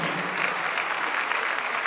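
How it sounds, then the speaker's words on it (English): A crowd at an event applauds in a dense, steady wash of clapping, loud and continuous across the short stretch with no pause. "Please, a round of applause."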